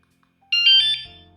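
Vanolarm Lite vibration alarm giving a short electronic beep pattern as it is set, a sudden bright chirping tone after brief silence, followed by faint lower buzzing.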